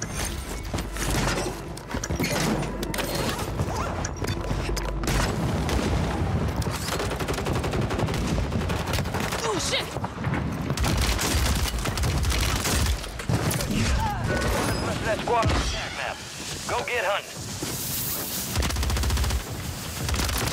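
Sustained gunfire in Call of Duty: Warzone, with dense bursts of automatic shots and occasional booms rattling on for about twenty seconds, loud and continuous, with voices talking over parts of it.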